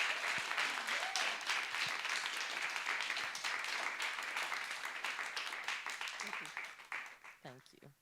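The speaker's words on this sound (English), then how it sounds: "You can clap. Okay, you can clap." Sustained audience applause from a crowd at a literary festival after a podcast reading, dense and steady clapping that tapers off near the end as a voice begins to speak.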